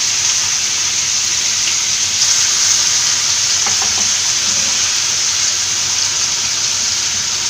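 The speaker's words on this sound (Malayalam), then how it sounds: "ഫിഷൊക്കെ ഫ്രൈ ചെയ്യുമ്പം മീഡിയം ഫ്ലെയിമിലിട്ട് ഫ്രൈ ചെയ്യണം." Kerala-style fish fry sizzling in a pan over medium flame, a loud steady hiss of hot oil with faint crackles, close and continuous with no talk.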